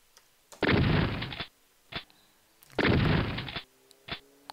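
Shotgun sound effect from the R beepr notification package: two loud blasts about two seconds apart, each followed by a short mechanical pump click, with no voices.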